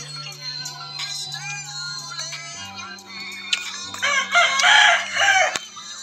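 A rooster crows loudly nearby, several drawn-out calls in a row, with other hens clucking and faint farmyard sounds behind.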